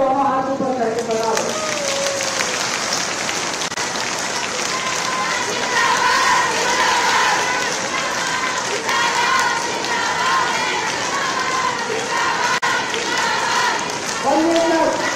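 A large crowd at a Rajasthan political event honouring Chief Minister Bhajanlal Sharma over women's reservation claps loudly in a sustained wave of applause, framed by a speaker's voice at the start and end.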